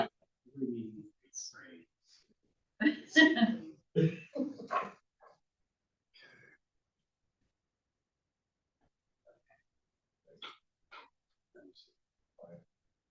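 A dog in a room during a professional council meeting gives a few short, sharp barks early on, mixed with people talking nearby; the rest is quieter with scattered faint sounds.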